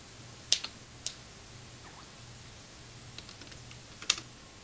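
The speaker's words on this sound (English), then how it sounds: "Why is he typing?" Sparse computer keyboard keystrokes over a call, a few isolated clicks and taps against a low steady hum, faint and spaced apart rather than a continuous typing run.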